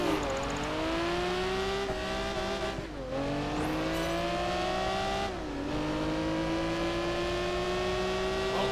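A Ferrari Enzo in the Project Gotham Racing 4 game, engine revving hard and climbing through gears with shift dips, loud steady acceleration whine and faint tire squeal, no talk.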